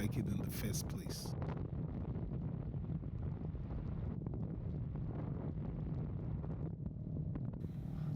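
Wind buffets the microphone as a motorcycle rides on the road between the Benin and Togo borders, a steady low roaring rush throughout with scattered bumps and crackles, fairly faint overall.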